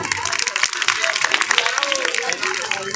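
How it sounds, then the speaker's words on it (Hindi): Applause from an audience at a Bahujan community commemoration gathering in Hapur, a dense, steady patter of clapping lasting throughout, moderately loud with crowd murmur beneath. "आप सभी लोगों के लिए जोरदार तालियां इस सम्मान के लिए"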